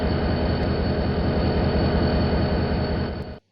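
Train in the Trainz video game rumbling past loud and close, steady rhythmic clatter of wheels on rail joints that cuts off abruptly at the end.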